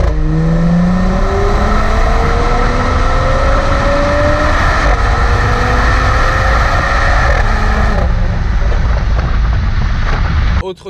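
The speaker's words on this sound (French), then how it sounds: "Là, on n'a pas d'échappement sport. Attention, ça fait un très beau bruit quand même." A Mercedes-AMG GLC 43 without a sport exhaust, its engine droning loudly and steadily with rising tones as it accelerates, heard from inside, before the sound cuts off abruptly at the end.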